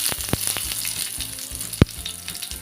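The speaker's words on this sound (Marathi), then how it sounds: "फोडणीला द्यायची आपल्याला एक पाव चमचा राई, एक छोटा टेबलस्पून जिरं, त्यानंतर मी लसणाच्या पाकळ्या घेतल्यात" Crushed garlic, mustard seeds and cumin sizzle in hot oil as a tempering, a steady close frying hiss with a few pops and one sharp clatter.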